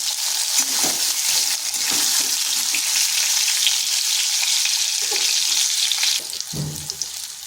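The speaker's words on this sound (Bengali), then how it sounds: "কাঁচকলাগুলো ভেজে নেব, কিন্তু এখনই আমি নুন দেব না।" Pieces of green banana fry in oil in a wok with a steady, close sizzle, joined by occasional stirring clatters and a brief scrape near the end.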